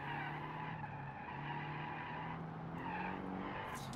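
Car tires squealing and skidding through quick corners in BeamNG.drive, a tuned Sport RS producing a sustained screech over an engine hum, with the pitch wavering slightly and fairly faint.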